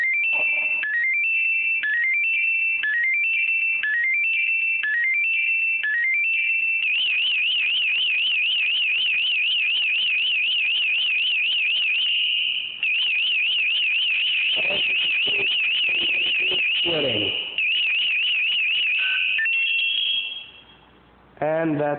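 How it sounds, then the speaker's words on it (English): A Superpass II breathing apparatus pre-alarm sounds loud and close: at first a string of repeated rising electronic chirps, then a steady warbling tone that holds for many seconds before stopping abruptly. "I go a lot of times like that without moving, but your pre-alarm comes on."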